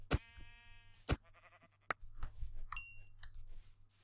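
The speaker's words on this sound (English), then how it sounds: "Sheep. I do need more wool." A sheep in the video game Minecraft gives a few short bleats spaced out over a quiet background, with soft clicking sounds between them.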